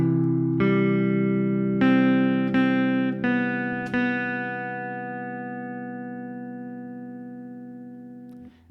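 An electric guitar picks a chord melody, a few plucked notes over a held chord, then letting the last one ring and slowly decay, clean with a touch of effect.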